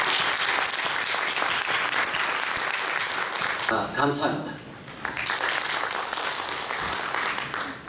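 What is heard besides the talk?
audience applause at an academic conference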